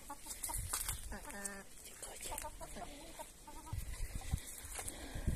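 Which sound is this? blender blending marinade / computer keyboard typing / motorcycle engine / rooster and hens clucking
rooster and hens clucking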